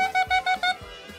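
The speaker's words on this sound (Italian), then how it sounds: "normalmente si suona così il clarinetto" A few short clarinet notes played cleanly and evenly, a quick run of separate tones lasting about a second.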